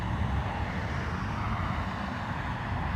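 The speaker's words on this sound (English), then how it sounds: "Ryanair from Malaga." A Ryanair airliner in from Malaga at Dublin Airport gives a steady broadband engine roar that holds loud and even throughout, with no voices.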